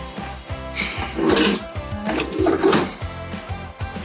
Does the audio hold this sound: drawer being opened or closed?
yes